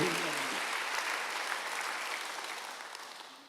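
A church congregation claps together during a Sunday worship sermon, a steady dense wash of applause that begins at full strength and slowly fades over a few seconds, with no speech over it.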